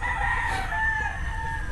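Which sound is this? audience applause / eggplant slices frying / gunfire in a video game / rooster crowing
rooster crowing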